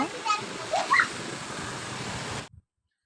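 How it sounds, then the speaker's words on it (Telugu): Heavy rain pours down and splashes in a steady hissing wash, with brief voices mixed in early on, before the sound cuts off abruptly. "మధ్యాహ్నం కల్లా చూడండి వర్షం వచ్చేసింది."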